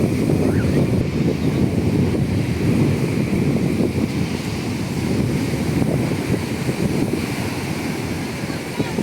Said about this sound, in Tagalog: Huwag lang lumakas na lumakas ang hangin.